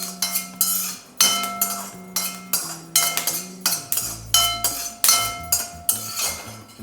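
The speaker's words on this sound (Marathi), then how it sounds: "आता आपण 5 ग्रॅम मिरे भाजून घेऊ" Black peppercorns, about 5 grams, dry-roast in a pan for garam masala. A utensil knocks and scrapes against the metal in a steady series of sharp, ringing clinks, close up, with no talking.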